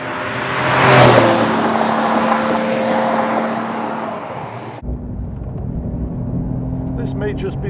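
A non-turbo sports car accelerates hard past at speed, its engine roar swelling loudly then cutting abruptly to a lower steady drone, with a voice talking over it near the end.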